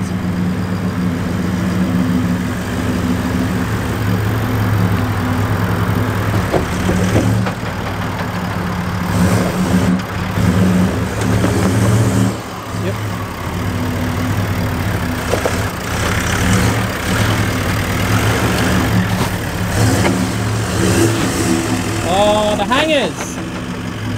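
A big off-road truck engine rumbles steadily with a couple of revs, loud and close, while people talk over it.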